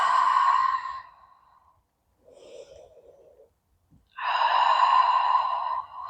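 Exhaling breaths during a yoga flow: two long, soft, airy breaths out, close to the mic, separated by a quieter breath and near silence.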